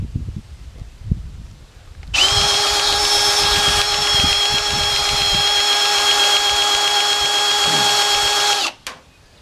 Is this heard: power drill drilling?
yes